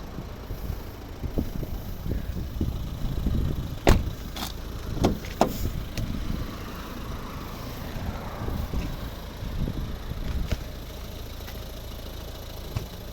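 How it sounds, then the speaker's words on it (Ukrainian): A 2011 Volvo V50 with a 1.6 diesel engine idling, a steady, low, even rumble with a few sharper clicks and taps, close by and with no talk over it. "Автомобіль заведений, рівно тихо працює, його практично не чують."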